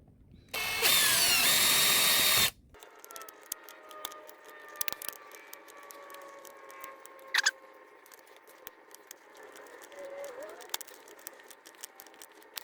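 One loud, close burst of a power driver sinking a small screw into a phone mount in a 2016 Jeep Renegade lasts about two seconds, followed by quiet clicks, taps and light rattling.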